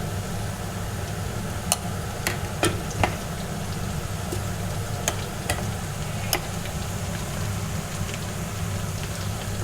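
Onions with salt and spices fry in ghee for chicken biryani, a soft, steady sizzle punctuated by several sharp clicks of a spoon scraping the pan.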